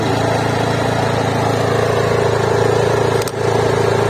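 A Daewoo DAIG 3000 S inverter generator runs under load, a loud, steady, close engine drone with a constant hum and only a brief dip near the end.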